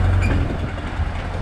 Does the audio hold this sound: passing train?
yes